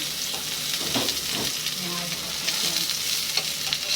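Onions sizzle and fry in a pan with a salmon head, a steady crackling hiss broken by a few stirring scrapes, close and continuous with no talk.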